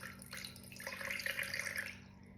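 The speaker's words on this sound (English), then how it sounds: "I'm going to put about 60 grams of water." Filtered water poured into a sourdough starter jar sitting on a kitchen scale makes a soft, steady trickling splash for about two seconds against a faint background hum.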